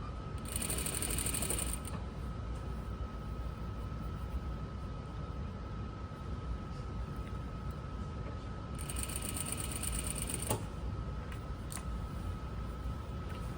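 A sewing machine stitches a seam on a princess flared dress in two short bursts of fast whirring, near and moderately loud, separated by a long stretch of quiet room hum with no talk.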